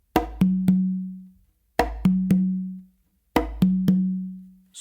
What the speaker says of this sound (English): we're going to do a solid close slap with our non-dominant hand on the conga